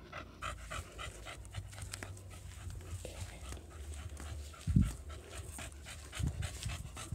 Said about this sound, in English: And the dog down here.